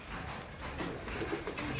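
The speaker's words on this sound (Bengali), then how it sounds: "এই পায়রাগুলোকে এবার গরমে উড়াবো বন্ধুরা।" Home-bred pet pigeons coo softly in a short, quiet burst of low murmuring calls against faint background noise.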